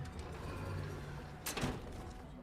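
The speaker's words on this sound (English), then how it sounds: "door glitching over there." A glitching door in The Last of Us Part 2, an unfinished game level set at a party in Jackson, gives a short sliding scrape and thud midway through, against a faint, steady ambient background.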